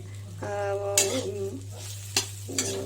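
Peanuts are stirred into a boiled filling in a pan, a few close scrapes and taps over a steady low hum and faint sizzle, with a brief tonal whine early on.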